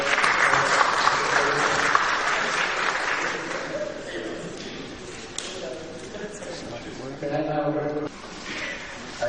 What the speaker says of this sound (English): let's give the round of applause